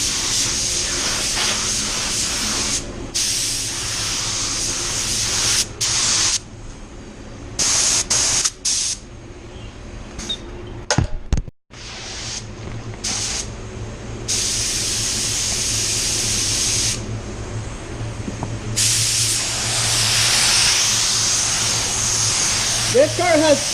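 Spray gun painting a car in a body shop, a steady broadband hiss that runs almost throughout with brief pauses, fairly loud and close, with occasional faint background talk.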